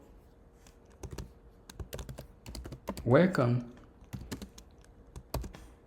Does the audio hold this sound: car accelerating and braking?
no